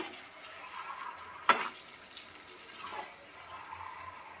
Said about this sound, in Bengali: এবার ভালো করে লবণ আর মাছের মাথা সবজির সঙ্গে মিশিয়ে নেব